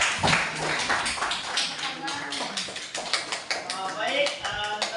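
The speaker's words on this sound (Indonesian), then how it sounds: "Tepuk tangan dulu untuk kita semua." A school class clapping hands in a classroom, a run of sharp, uneven claps from many children with voices chattering over and between them.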